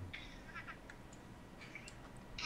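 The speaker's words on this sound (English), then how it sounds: "Is that a cat?" A cat meows indoors a few times, faint high cries scattered across a quiet room with background hiss.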